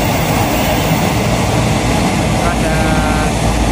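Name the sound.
train passing beside the railway track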